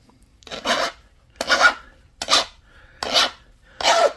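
Flint arrowhead edge being abraded to sharpen it, five separate rasping strokes about a second apart, close and fairly loud with quiet gaps between them.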